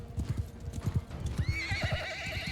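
Horse galloping in the video game Mount & Blade II Bannerlord, rapid rhythmic hoofbeats close by, followed by a loud whinny over continuing hooves.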